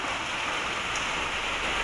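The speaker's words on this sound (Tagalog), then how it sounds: "Sana tumigil na tong ulan." Steady rain falls in a continuous, even hiss of drops on surfaces, moderately close, with no voices.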